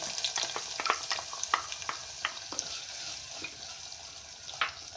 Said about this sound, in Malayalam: കടുക് പൊട്ടിക്കഴിഞ്ഞാൽ അരിഞ്ഞു വെച്ച ഉള്ളി ഇതിലേക്ക് ചേർക്കുക